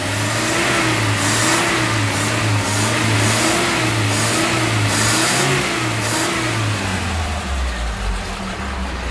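A Toyota 4K engine in an owner-type jeep, restarted after sitting unused for almost three years, running without its air cleaner. It holds a loud, steady idle that rises and falls through repeated revs, ending in a brief dip.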